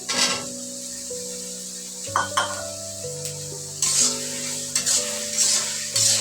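Chickpeas and noodles being stirred in a frying pan, with scraping utensil strokes against the metal over a steady sizzle, while a melodic background tune plays throughout.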